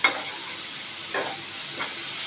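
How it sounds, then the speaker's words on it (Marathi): Sweet fasting kachori filling sautéed in a pan, a steady soft sizzle underneath while a spoon stirs it in three brief scraping sweeps, close and moderate in level with no talking. "आता आपण हे परतून घेऊया थोडं हलकं"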